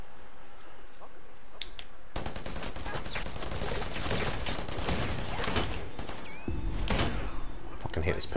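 Pistol shots from Predator: Hunting Grounds on PS4 Pro, a burst of sharp gunfire erupting after a quiet stretch and continuing loudly amid game noise and scattered voices.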